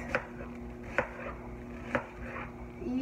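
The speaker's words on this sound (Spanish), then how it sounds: "Voy a picar la cebolla" Onion chopped in a small manual chopper machine: three evenly spaced sharp chopping clacks over a steady hum, fairly quiet and close.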